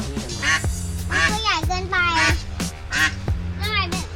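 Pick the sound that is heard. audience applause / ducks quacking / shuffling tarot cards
ducks quacking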